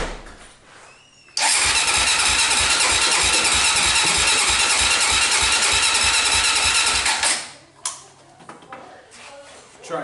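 A Honda 400EX quad engine starts and runs loud and close with a fast, steady rapid thumping for several seconds, then cuts out, leaving quieter rattles and brief speech around it.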